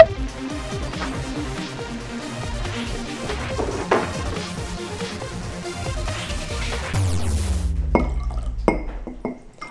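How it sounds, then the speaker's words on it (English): Liquid poured from a cup spills and dribbles with drips and glassy clinks, ending in a few sharp knocks as the cup is handled. "These cups are not very good at pouring."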